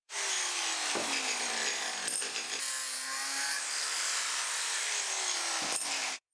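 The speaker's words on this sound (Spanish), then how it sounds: "usando mi esmeriladora de la barra plana pude cortar un montón de piezas de aluminio como esta" An angle grinder cuts aluminium flat bar into pieces with a loud, continuous abrasive whine. Its pitch dips in several places as the disc bites into the metal.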